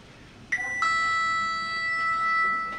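A lift arrival chime at One New Change rings out twice in quick succession, two clear sustained electronic tones that ring on and slowly fade, loud and close.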